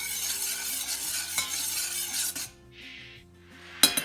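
Liquid ingredients for homemade air dry clay, tinted with food dye, being stirred briskly in a container, a continuous scraping swirl with faint clinks; the stirring stops partway, then a sharp knock lands near the end.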